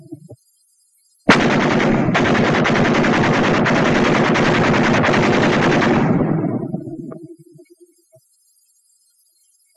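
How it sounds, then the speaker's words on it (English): A 30-caliber machine gun fires in an infantry weapons training film, firing at 250 rounds a minute. One long, loud, continuous burst lasts several seconds, then fades out into echo and silence. "this is a machine gunner's dream. He can mow them down like wheat at 250 rounds a minute"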